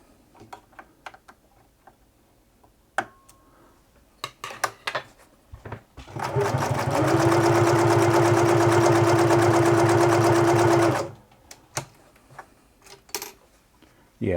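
An '80s Singer Futura Electronic 2002 sewing machine runs in one loud, steady burst of stitching for about four seconds, framed by scattered clicks and handling taps before and after.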